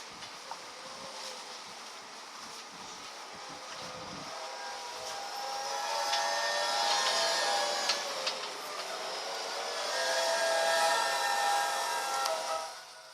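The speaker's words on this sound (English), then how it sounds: "What you just heard was sounds of Hurricane Ike" Hurricane Ike sounds as a continuous broadband roar of storm noise that swells and fades in long surges, with no voices.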